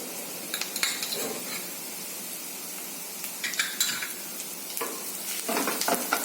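Onions sauté in a pan until pink with a steady hiss and sizzle, punctuated by clattering stirs of a spoon against the pan, close and without talking.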